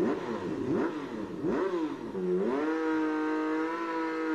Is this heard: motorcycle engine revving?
yes